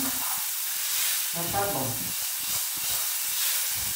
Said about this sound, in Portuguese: vamos colocar para dourar um pouquinho. Não preciso de deixar queimar o alho não